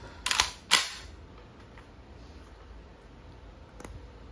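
A Crosman A4-P airgun loaded with steel balls fires two sharp, close shots in quick succession, followed by a fainter third pop a few seconds later amid quiet background hiss.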